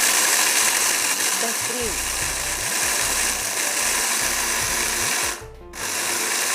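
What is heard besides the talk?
Philips grinder grinding roasted spices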